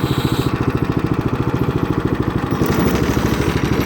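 Craftsman snowblower engine runs close and loud with a fast, even chugging pulse, the note rising slightly near the end, no voices.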